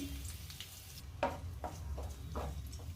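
Garlic and ginger fry in oil in a kadai with a soft, steady sizzle, broken by a few sharp stirring clinks against the pan; no voices.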